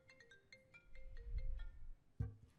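Phone ringtone during a legislative committee session on rules, a repeating electronic melody of short tonal notes ringing in a large room with low murmuring and shuffling underneath.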